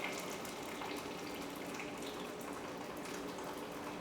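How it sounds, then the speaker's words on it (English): Very hot water poured from a container over fresh tomatoes in a kitchen, a continuous close splashing gush lasting several seconds with no talk. "put very hot water over tomatoes, and I will do this right now"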